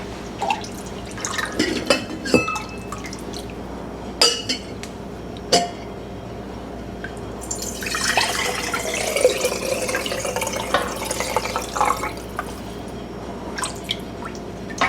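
Homemade chicken broth being poured into glass jars in a kitchen, with scattered clinks and taps of glass, then a longer trickling pour of liquid, close and moderately loud.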